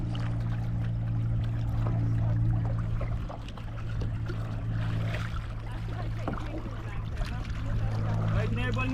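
Kayak paddling on the water during an excursion at Half Moon Cay in the Bahamas, soft splashes and trickles over a steady low engine-like drone, with voices talking faintly in the background.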